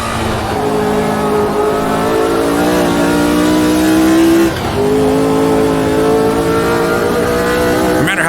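Race car engine at the 1970 Spa circuit in Automobilista 2, a loud, steady high-revving drone with harmonic whine rising through the gears, one brief lift near the middle before climbing again, with no talk over it.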